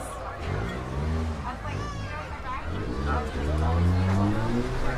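During a barrel race at the Becker County Fair in Detroit Lakes, Minnesota, a vehicle's engine strains and revs with rising pitch as its rear tires spin and its front wheels lock, under steady announcer commentary and crowd noise.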